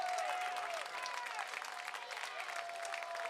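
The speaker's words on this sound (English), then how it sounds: "the fans cheering for it now. Getting to their feet, clapping, excited for this Bowie win." Baseball fans at a Bowie Baysox minor league game clap and cheer in a steady, sustained burst of crowd applause, with a whistle-like tone early on and faint voices in the stands beneath it.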